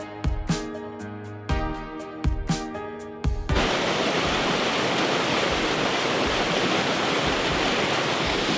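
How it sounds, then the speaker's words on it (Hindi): A waterfall on a mountain road in the monsoon, a steady loud broadband roar of falling water that fills the scene after a few sharp knocks at the start, continuous and close. "देखिए, इन रास्तों को और खूबसूरत बनाते हैं इस तरह के झरने"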